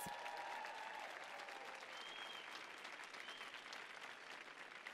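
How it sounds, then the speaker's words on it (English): Audience at a panel on creating opportunity for vulnerable populations applauds a chef, with continuous, even clapping across the room, heard faintly and at a distance. "Can we give him a round of applause?"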